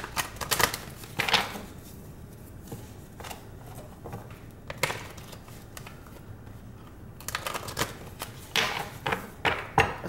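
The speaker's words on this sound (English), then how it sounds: "Let's do 2 more shuffles" Tarot cards are shuffled close up in quick papery riffling bursts, first at the start and again near the end, with quieter rustling and handling of the deck in between.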